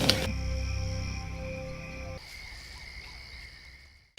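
A cricket chirps at night with a thin, steady high tone over a low hum that cuts off halfway, leaving the faint chirping alone and fading.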